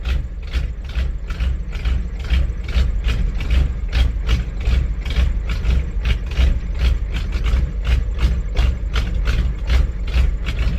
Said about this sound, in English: I think it's the rowdiest naturally aspirated IDI that I know about.